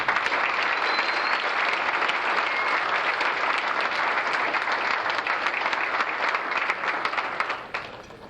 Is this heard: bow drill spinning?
no